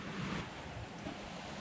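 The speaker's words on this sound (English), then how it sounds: "wind kicks in again" Steady wind and rushing waves surround a Hallberg-Rassy 54 sailboat under way between Jamaica and Cayman, a continuous broad wash with no speech.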